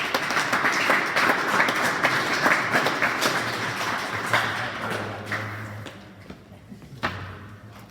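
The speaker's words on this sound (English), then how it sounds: "Round of applause for all of our lettermen" An awards-night crowd applauds high school wrestling lettermen, a dense steady clapping with sharper individual claps and thuds poking through, loud at first and thinning toward the end.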